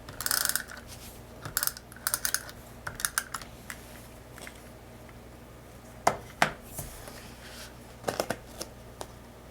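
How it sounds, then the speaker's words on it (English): A paper trimmer cuts card paper for a handmade garland card, giving a few sharp clicks and slicing snaps spaced irregularly over a quiet background. "To cut it with your paper trimmer."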